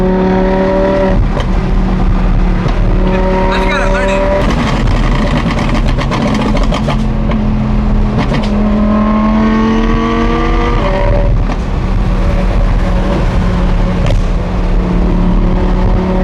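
An Audi R8 with a loud flame tune revs repeatedly, its engine note climbing and falling in bursts, with sharp exhaust pops and crackles between the revs. The car sounds close, and someone speaks briefly.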